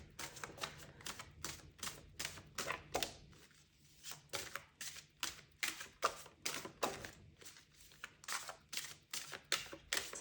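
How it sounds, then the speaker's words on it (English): Tarot cards being shuffled by hand, a rapid run of crisp, evenly spaced slaps and clicks that pause briefly near the middle, then resume at a steady rhythm, quiet and close. "I am nearly done shuffling here."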